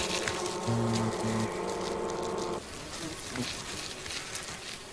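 Japanese giant hornets and bees buzz close by in a dense droning hum, with steady tonal buzzing for a couple of seconds before it thins into a softer rustle.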